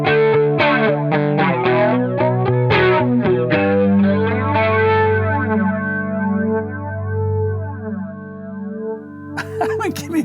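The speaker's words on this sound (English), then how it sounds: "I've never heard a flanger like it." Electric guitar played through a Hot Cake pedal produces a wild, swirling flanger-like tone, with sustained chords and strummed notes sweeping and wavering for several seconds, ending with a burst of noise.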